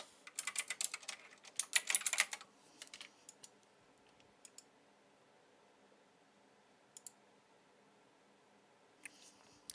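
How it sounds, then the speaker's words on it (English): Fast bursts of clicky computer keyboard typing up close at the start, then scattered single key taps against a quiet background. "Let's just type it."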